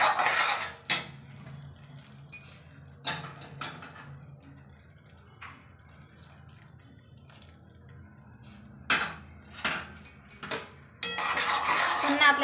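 A spoon stirring moong dal halwa in a pan gives sporadic soft scrapes and clinks against the metal, quiet and irregular, with low kitchen hush between strokes.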